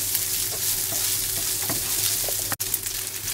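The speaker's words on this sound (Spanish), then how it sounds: "Jamón de York solamente saltearlo un poquito" Sliced York ham sautéing in a frying pan with browned bacon, a steady close sizzle throughout with a few faint stirring scrapes and one brief sharp click near the end.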